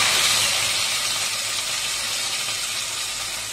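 Fenugreek seeds and cumin tempering in a little hot oil for gongura chutney give off a loud, continuous sizzling hiss. It fades slightly over time and no one speaks.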